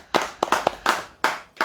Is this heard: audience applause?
yes